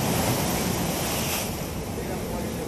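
Huge sea waves crash against the eroding shore at Podampeta in Ganjam, a steady loud roar of surf mixed with wind buffeting the microphone, with no pause throughout.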